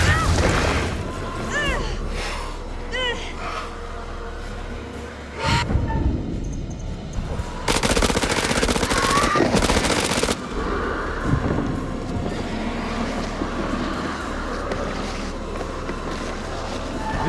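Gunfire bursts in House of Ashes, a horror video game, rattling loudly over a continuous bed of game ambience and music, with the densest firing clustered in the middle of the passage.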